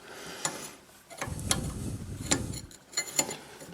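An 11 mm wrench tightens a bolt on the rear wheel brake of a 2006 Audi A3, making a handful of close, sharp metallic clicks and ticks separated by brief rustling handling noise.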